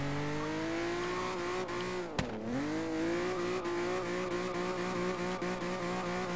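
A car in Forza Horizon 3 runs an elongated figure-8 drift course, its engine holding a steady, continuous drone with one brief dip and tire-scrub moment near the middle, fairly faint and with no one talking.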